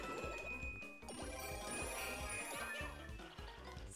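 Bell power-up collected in Super Mario 3D World, bright chiming jingles and dings over busy game music, fairly quiet.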